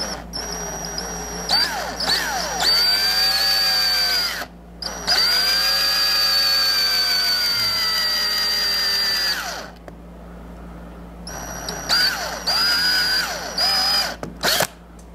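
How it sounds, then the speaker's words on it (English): A power drill whirs loudly in two bursts, drilling a small pilot hole in a Honda Shadow 750 motorcycle carburetor, spinning up and down with pauses between, close by. "I'd like to drill a small hole and see if I can possibly pry it out of there."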